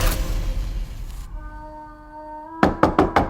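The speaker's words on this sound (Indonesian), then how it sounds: "Saat sang ibu mengetuk pintu tidur kamar Aziza" Knuckles rapping on a wooden bedroom door: four firm, close knocks in quick succession, following a fading held musical tone.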